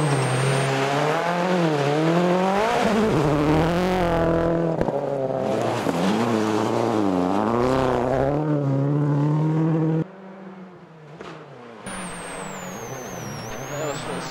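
A Ford Focus WRC rally car slides sideways on a loose, rough surface, its engine loud and close, revving and falling through the corners. Someone talks over the engine noise throughout.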